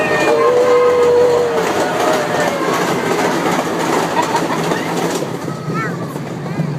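Passenger train rumbling along the rails as it heads into a tunnel, a steady loud roar with a brief tonal squeal early on, while people on board talk over it.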